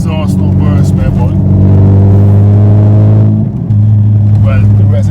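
An MK4 car's engine with a leaking exhaust revs loudly and close: a deep, harmonic drone rises in pitch, drops sharply, then settles back, with voices faintly around it.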